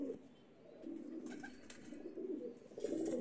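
Teddy pigeons in a breeder's loft, marked with dye after vaccination, give soft, throaty coos in repeated swells, near and continuous, with light rustling and no talking.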